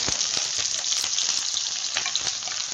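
Onions frying in hot oil in a home kitchen pan give a loud, steady sizzle with scattered crackles and the soft scrape of stirring, with no talking.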